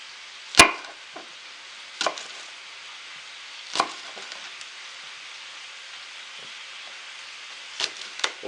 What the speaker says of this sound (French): La cébette que je découpe.